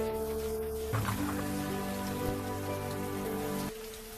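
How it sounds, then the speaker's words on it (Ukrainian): Steady rain pours down at night near a river in a continuous dense hiss, with a low tonal hum running beneath it throughout. "Добре, що нарешті йде дощ."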